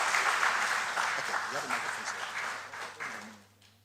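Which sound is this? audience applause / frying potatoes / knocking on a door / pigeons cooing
audience applause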